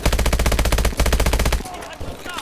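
Rapid automatic gunfire in Call of Duty: Advanced Warfare, a loud, close, continuous burst that stops briefly and then stops for good, followed by a faint tail of game sound.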